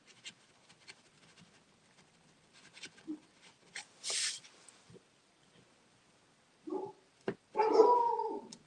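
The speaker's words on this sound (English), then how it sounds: "My puppies are barking." Puppies at home making short, scattered yelps and barks, faint and intermittent against a quiet room, with a louder burst near the end.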